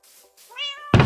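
Cats meow in the Minecraft video game, a faint sound at first, then a clear, rising game meow, ending in a sudden loud thump.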